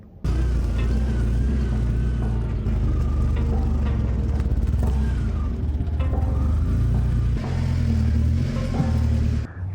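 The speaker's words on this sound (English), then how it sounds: "So I'm going to pull this car up and get the rears adjusted." A car being driven up to have its rear suspension adjusted, its engine rumbling steadily and close by at low revs, with a brief swell in the last seconds and no talk.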